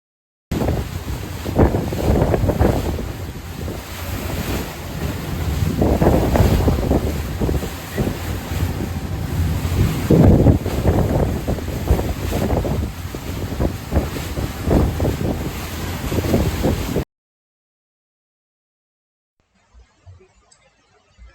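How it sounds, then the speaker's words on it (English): A boat cruising around the island of Capri in cold wind, with steady loud engine rumble, wind buffeting the microphone and waves washing past for most of the time, then a sudden cut to near silence near the end. "So, as the boat kept moving around the island"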